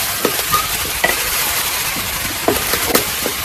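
Stingray fish pieces frying in oil, a loud, dense, continuous sizzle close up, with occasional soft knocks and stirring scrapes, no voices.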